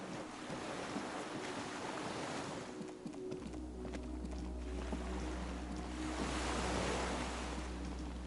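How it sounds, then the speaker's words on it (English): Waves lap and wash steadily against a dock in the video game Disco Elysium, a constant surf-like wash with a low rumble beneath, continuous and moderately close, with no talk. "The skiff is swaying on the waves by the dock."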